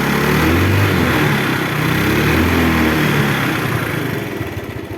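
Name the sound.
Yamaha Mio motorcycle engine running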